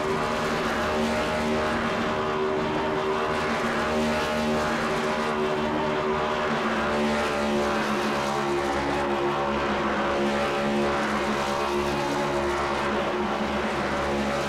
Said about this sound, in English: And the one will do his burnouts in celebration.